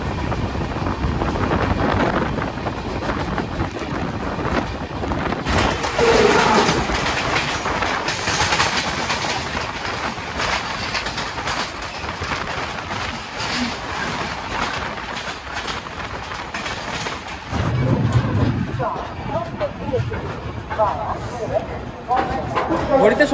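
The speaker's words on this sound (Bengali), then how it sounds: "ট্রেন ছেড়ে দিল" A passenger train on the Haridwar to Hazrat Nizamuddin route runs along the rails with a continuous rumble, rhythmic clickety-clack and wind buffeting the microphone, heard from on board throughout with a voice speaking over it.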